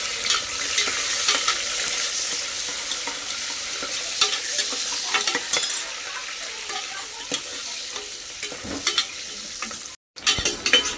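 Whole spices such as shahjeera stirred and frying in hot oil in a pan for vegetable biryani, a steady close sizzle with repeated scraping strokes of a spoon, briefly cut off near the end.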